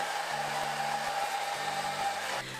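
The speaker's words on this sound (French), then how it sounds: "on passe au sèche-cheveux. Donc en fait le principe de cette astuce c'est de sécher ses cils à l'air froid" Hair dryer blowing steadily on its cold setting, aimed at eyelashes, a constant close whirring hum that drops slightly just before the end.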